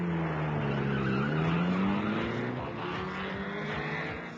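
Stunticon vehicles race off along a road in a Transformers audio story, a loud engine drone rising in pitch as they accelerate and roar away, with no voices.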